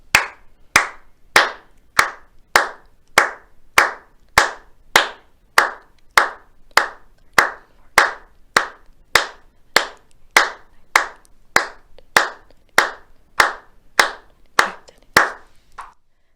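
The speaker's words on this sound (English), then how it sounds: "After the fourth, we're gonna start the clap 26 times on the beat." A class of grade 3-5 music students claps 26 times on the beat. The claps are sharp, evenly spaced and steady, with no talk.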